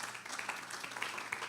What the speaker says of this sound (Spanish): Cuando le damos una ofrenda de palmas al Señor